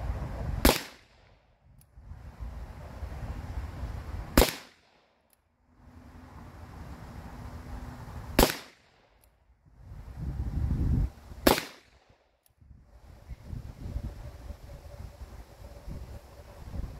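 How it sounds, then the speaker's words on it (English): Four sharp rifle shots from handloaded bullets, spaced a few seconds apart, loud and close, each followed by a short echo over outdoor wind noise. "I'm gonna take a few shots, see how they go."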